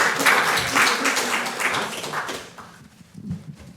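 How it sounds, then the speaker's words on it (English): Seminar audience clapping at an international seminar in Givær, fairly close and lively at first, then thinning out and fading away, with a few scattered claps and faint murmuring near the end. "big applause"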